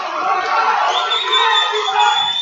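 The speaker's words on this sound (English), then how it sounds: "A lot of commotion from the crowd here." Crowd commotion in the stands at a high school wrestling match, a loud continuous roar of many voices with cheering throughout.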